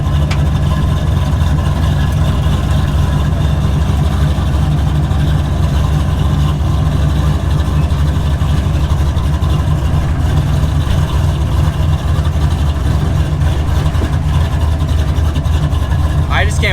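A V8-swapped rear-wheel-drive Honda car drones steadily and loudly from inside the cabin while driving, a constant low engine rumble with road noise and no pauses throughout.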